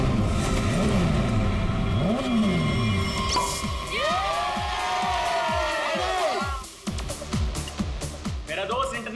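Motorbikes rev and roar at the start of a race, engines sweeping up and down in pitch as they whoosh past one after another, with crowd noise and voices mixed underneath.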